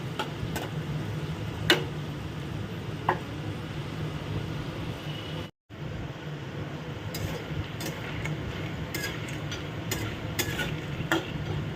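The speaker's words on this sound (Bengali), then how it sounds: "আর এদিকে আবার দেয়া হয়েছে, আস্তে আস্তে করে ভাজা হচ্ছে।" Nimki snacks frying slowly in oil over a low flame, a soft continuous sizzle with scattered light ticks and bubbles, steady throughout apart from a brief gap, no voices.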